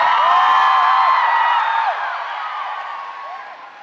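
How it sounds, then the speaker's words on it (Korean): Concert crowd for a rock band in an indoor arena in Uijeongbu cheers loudly, with high shrieks and whoops over a dense roar that slowly fades across several seconds. "박수입니다"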